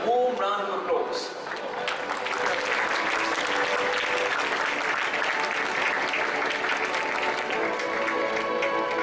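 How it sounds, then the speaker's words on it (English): A conference audience at a religions-for-peace gathering in Seoul gives a long, even round of applause to welcome a speaker, dense and steady clapping throughout with a voice briefly at the start. "Please welcome Dr. Ashin Gnanasara with a warm round of applause."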